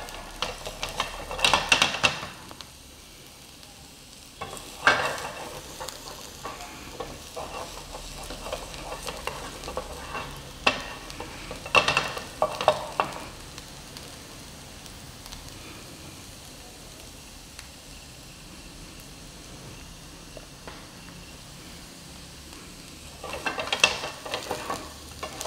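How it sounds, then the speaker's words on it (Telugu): Paneer fries in a pan with a continuous soft sizzle, broken by several sharp bursts of stirring and scraping against the pan. "లైట్గా గోల్డెన్ కలర్ వచ్చేదాకా ఫ్రై చేసుకోండి."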